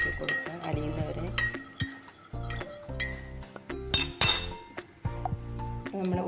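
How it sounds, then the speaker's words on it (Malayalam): A spoon clinks repeatedly against a glass while sugar is stirred until it dissolves, giving close, bright taps in an uneven rhythm with ringing tones between them. "നന്നായിട്ട് ഇളക്കി മധുരം വരുന്നത് വരെ ഇളക്കി കൊടുക്കുക, അലിയുന്നവരെ."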